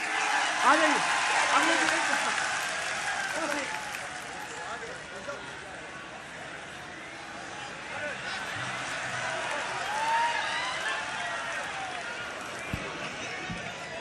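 An audience at a Hindi comic poetry gathering bursts into applause, loud at first, then settling into a steady clatter of clapping, while a host talks over it.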